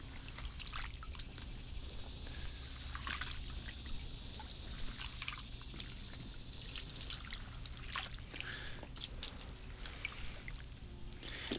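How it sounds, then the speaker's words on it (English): Water trickles and sloshes continuously with small splashes and drips, quiet and close, as muddy beets are turned around in a tub of water. "you put them in a tub of water and get all the mud off of them"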